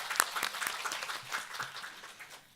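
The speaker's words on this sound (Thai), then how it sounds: "ขอเชิญทุกท่านปรบมือต้อนรับ" Audience applause welcoming a speaker at a palliative care seminar, a brief spatter of many hands clapping at moderate distance that thins out toward the end.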